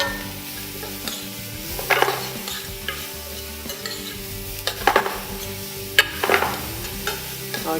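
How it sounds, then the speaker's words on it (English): Vegetables sweat in butter and organic olive oil in a pan, a soft continuous sizzle broken by a few louder scrapes and stirs of a utensil, close and without talk. "a touch more butter, a little bit of this organic olive oil, and we'll just sweat that off"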